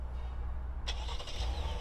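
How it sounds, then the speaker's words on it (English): A 2020 Chevrolet Blazer RS starts by remote, its engine catching sharply after a quiet pause and settling into a low, steady idle, heard fairly close and alone. "let's remote start the car"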